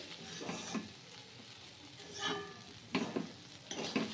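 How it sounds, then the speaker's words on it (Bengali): Pulao rice frying in a pan while being stirred, soft sizzling broken by several short scraping stirs, fairly quiet and close. "এদিকে পোলাও চালটা ভাজা হয়ে গেছে ভালোভাবে"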